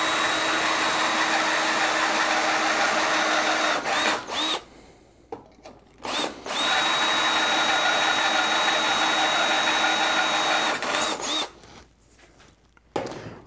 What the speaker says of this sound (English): Let's try to drill this out a little bit.